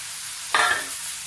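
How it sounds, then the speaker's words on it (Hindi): Spinach greens with garlic frying in an iron kadai: a quiet sizzle bed with a single sharp scrape and hiss as the spatula turns the greens, close by. "इसको बहुत देर तक कम से कम 5 मिनट तक से भूनना है"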